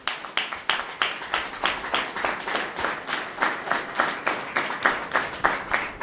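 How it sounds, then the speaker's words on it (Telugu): A church congregation claps loudly at a Sunday service, many hands striking together in a fast, steady beat of dense, close claps that keeps going throughout without talk. "క్లాప్స్ కొట్టి గట్టిగా"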